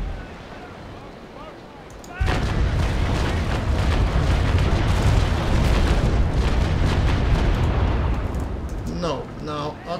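A sudden heavy broadside of cannon fire from sailing warships in Naval Action bursts in and rumbles on for several seconds, loud and booming, with a player talking over it.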